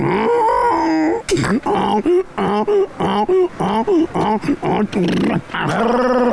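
A voice imitates a donkey's bray: a series of loud, rhythmic, harsh hee-haw cries close to the mic, with laughter mixed in.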